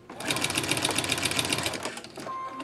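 A sewing machine stitches down the center of a loop strip on a shammy floor mop pad, a fast steady mechanical chatter that runs close and loud for over two seconds before slowing and stopping.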